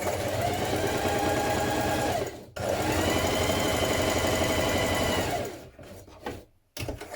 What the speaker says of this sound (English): you're going to ease stitch round the cap of your sleeves between the markings